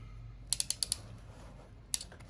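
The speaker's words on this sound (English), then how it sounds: "And then you start to squeeze it and it just ratchets in." A PEX clamp tool ratchets as it squeezes a clamp ring onto pipe. Five quick sharp clicks come in a burst, then a single click follows after a pause. The sound is close and moderately loud over a low background hum.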